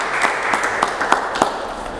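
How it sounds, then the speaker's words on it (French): Audience applause at a partner presentation in Burundi, a moderate continuous patter of many hands with a few sharper claps standing out at intervals, fairly close and steady over two seconds. "Je vous prie de les applaudir s'il vous plaît."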